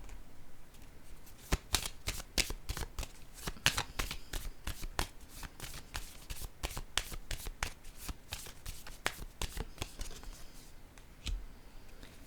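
Tarot cards being shuffled and laid down, a steady run of crisp riffling snaps and flicks going on for several seconds, close and fairly quiet, with no talk over it.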